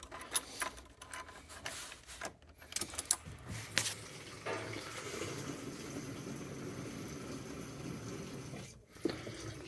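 A newly fitted EFI fuel pump in a Jeep runs after the key is turned on, with a steady close whir and a rushing flow of fuel, and a few clicks and clatters at the start.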